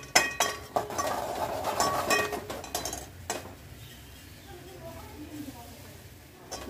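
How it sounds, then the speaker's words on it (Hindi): Spices (turmeric, chili and coriander) are added to garlic frying in a pan for a Gujarati gathiya curry, with a spoon clinking and scraping against the metal in quick bursts before the sound settles to a softer sizzle. "अभी हम ये हल्दी मिर्चा और धनिया डाल देते हैं।"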